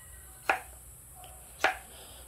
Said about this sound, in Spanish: sigue ahorita picando el tomate